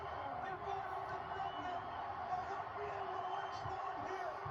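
The WrestleMania 17 arena crowd roars continuously and loudly during a Rock versus Stone Cold match, a dense, distant wall of cheering with scattered whoops under commentators' talk.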